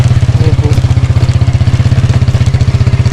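A motorcycle engine idles and chugs with a steady, fast pulsing thump, loud and close, running alone on a rough road.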